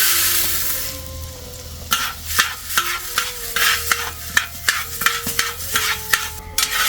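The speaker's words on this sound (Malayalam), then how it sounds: "ഇനി നമുക്ക് നമ്മുടെ കാപ്പിക്കുരു ഈ നെയ്ക്കകത്തിട്ടിട്ട് നമുക്ക് നന്നായിട്ട് വറുത്തെടുക്കാം." Coffee beans roasting in ghee in a pan at home, stirred with a spatula, giving a soft sizzle under a quick series of repeated scraping, rattling strokes close by.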